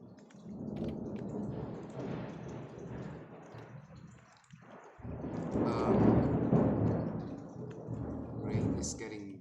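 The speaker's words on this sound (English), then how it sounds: "Rain is getting big over here. Thunderstorm's probably going to happen tonight." Rain falls during a thunderstorm in Minecraft, heard as a steady hiss with a low rumble that swells partway through, while people talk over it.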